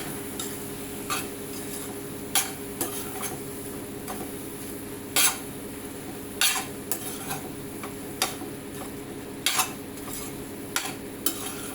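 A ladle stirs food in a pan with gongura, making intermittent sharp scrapes and taps against the metal over a faint low hum, spaced irregularly and heard close without talking.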